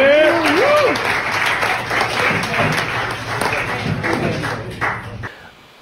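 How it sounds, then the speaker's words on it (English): Audience applause for a mentalist's stage performance, with a burst of clapping and cheering under some voices, fading out at the end. "Everybody give her a big round of applause."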